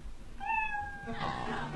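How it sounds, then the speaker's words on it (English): A single short cat meow plays as a sound effect marking the end of a comedian's time at a live comedy show, clear and fairly quiet, followed by a soft burst of crowd noise. "Comedians, you know your 60 seconds is up when you hear the sound of a kitty."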